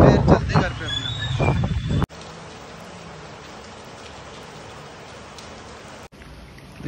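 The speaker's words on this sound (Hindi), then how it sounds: "एक इतनी तेज बारिश हुई है आज तो" Heavy rain pours down steadily in an outdoor street scene, a dense, loud hiss that continues without a break, while someone talks over the start of it.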